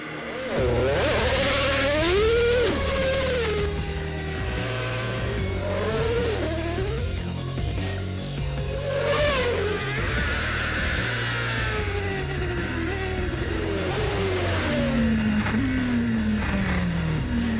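A Formula 1 car engine screams at high revs, its pitch sweeping up and down through repeated gear changes in a loud, continuous drone.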